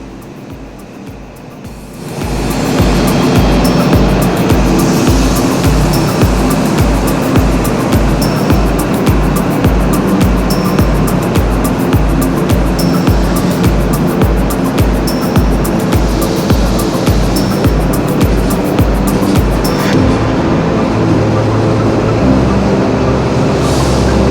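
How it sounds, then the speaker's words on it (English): A New South Wales TrainLink Explorer overnight passenger train rumbles steadily past with a rhythmic clatter of wheels over rail joints, loud and close, running continuously without voices. "Here's our New South Wales TrainLink Explorer overnight train service departing for Sydney"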